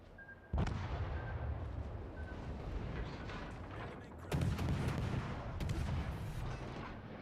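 Warship guns firing in the naval game World of Warships: Legends: two heavy booming salvos, one near the start and one about two thirds through, each followed by a long rumbling roar, loud and close with no talking.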